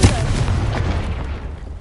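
A Confringo fire spell explodes in Hogwarts Legacy, a loud booming blast with a dense rumbling low end that sustains and slowly tails off over about two seconds.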